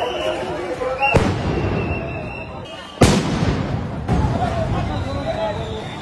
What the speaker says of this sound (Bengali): এবং সাউন্ড গ্রেনেড ছোড়াছুড়ি।